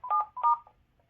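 Telephone keypad DTMF tones entering a code into a Vista alarm system over the phone: two short, clear beeps in quick succession, close and clean with no talk.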